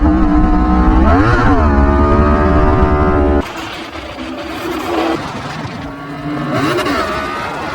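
Motorcycle engine revving hard and sweeping up in pitch as the rider gasses it for a wheelie, then dropping after the clutch release into a rougher, lower-pitched running sound with further short revs, loud and close.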